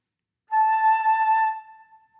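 One steady flute head joint note sounded with the end left uncovered, a clear, pure whistle-like tone held for about a second before fading out.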